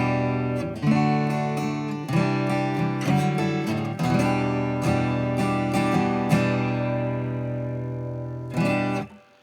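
Electric guitar chords strummed through a tube amp with no pedal, a sequence of loud, ringing clean chords, each struck and left to sustain, ending with a short final strum.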